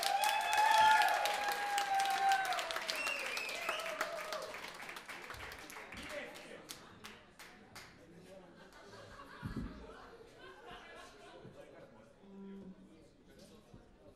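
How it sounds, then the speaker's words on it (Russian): A crowd claps and cheers loudly, the applause strongest at first and gradually thinning out, with scattered laughter and murmuring voices underneath. "Давайте поаплодируем сильнее!"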